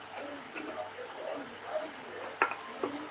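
Ginger-garlic paste sizzles softly in a pan, stirred now and then with a couple of sharp metallic clinks. Quiet talk runs faintly underneath.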